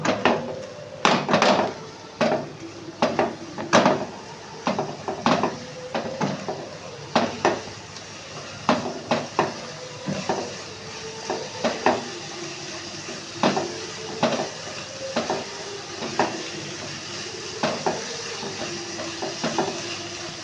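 Ginger garlic paste and half a teaspoon of Kashmiri chili being stir-fried in a pan for an egg dish: repeated sharp scrapes and clanks of a spoon against the pan in an uneven rhythm over a low, steady sizzle, close and fairly loud.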